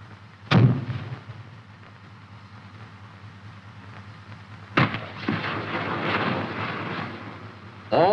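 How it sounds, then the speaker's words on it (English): Rockets or rounds fired in a full salvo from an M551 armored reconnaissance/airborne assault vehicle, a loud sharp blast followed by a long rumbling roar, then another burst of fire and a sustained whooshing rush, heard up close. "A full salvo is selected. The pin is removed from the firing switch. The fire switch is activated."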